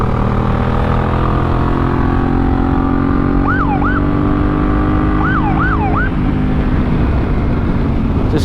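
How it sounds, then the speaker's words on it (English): A police siren on a Honda Africa Twin CRF1000L police motorcycle gives short wailing yelps in two bursts over a loud, steady engine rumble up close. "Just playing with the siren a little bit."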